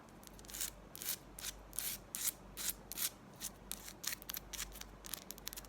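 Fingernails scratching sour Skittles candy packaging in close ASMR style, a series of crisp, bright rasping strokes in a loose rhythm, each burst separated by short pauses, intimate and clear with no talking.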